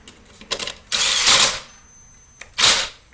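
A ratchet tightens bolts on a Yamaha 2000is generator in short, close bursts of rapid clicking, with a longer run of clicks near the start and another near the end, separated by quiet gaps.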